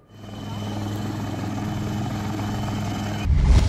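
A helicopter flies during a flood rescue of villagers in Beed after torrential rain. Its rotor drone builds quickly and holds steady and loud, then shifts abruptly into a rougher, louder rumble near the end, with no speech.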